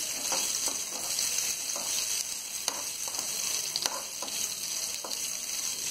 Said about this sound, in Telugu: పచ్చిమిరపకాయని కొంచెం ఫ్రై చేయాలి.